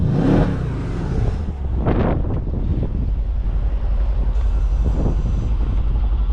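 A Mercedes E63s AMG 5.5L twin-turbo V8 (W212) revs up with exhaust valves open and roars through its quad exhaust, with steady low rumble and wind buffeting the microphone throughout.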